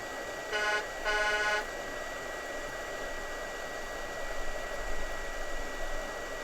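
Hot air rework station blowing onto an Xbox One circuit board during soldering, a steady close airy hiss with a couple of brief tonal beeps near the start and no speech.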